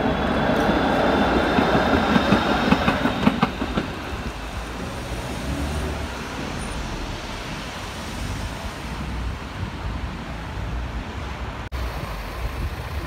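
An Amsterdam line 6 tram to Amstelveen Stadshart rolls into a stop, with loud rail rumble and clatter in the first few seconds. A softer, steady wheel and motor hum follows, heard without speech.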